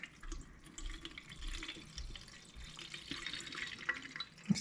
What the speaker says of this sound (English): So we'll pour it in, and we'll let it sit for a while,